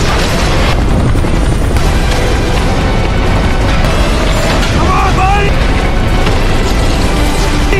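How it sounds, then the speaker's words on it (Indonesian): A building blows up in a war film, a loud sustained blast and rumble filling the whole span with dense roaring noise, alongside helicopter-like drone and someone shouting briefly over it. "Tempat itu akhirnya meledak."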